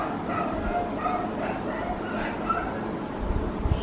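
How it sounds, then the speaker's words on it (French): A dog in Thailand barks and yips in short bursts at a moderate distance, repeated over a few seconds against steady outdoor background noise. "T'entends le chien là?"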